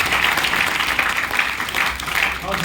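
A seminar audience in Gurgaon claps loudly and continuously, a dense, unbroken wash of applause filling the room.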